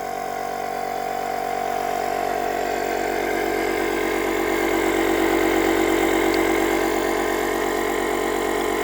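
A moped engine drives an air pump, a loud, steady, close idling hum with a constant pitch that holds unchanged for the whole stretch, with no voices over it.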